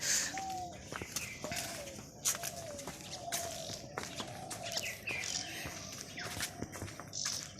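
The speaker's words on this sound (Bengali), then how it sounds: "এবং খুব সুন্দর পাখির ডাক" Scattered chirps and short bird calls ring out over a quiet rural village in the morning, faint and somewhat distant, with soft rustles and footsteps in between.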